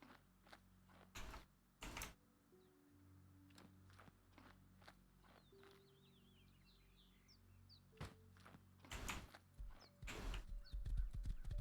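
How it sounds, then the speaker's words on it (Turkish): A horse in the survival game Rust sounds with sharp, loud hoof clops and crunchy chewing bursts, some close and some farther off, over quiet ambience with a few faint whinny-like tones and no talking. "Şurada bir atı besleyeyim."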